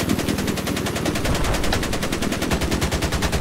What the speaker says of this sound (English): it looks like there's a hostile machine gunner.